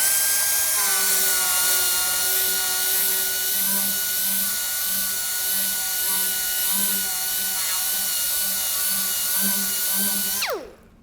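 A 15,000 RPM sander with a very fine Scotch-Brite surface conditioning disc runs on a cast metal part, a loud, close, steady high-pitched whine that holds for about ten seconds before spinning down and stopping.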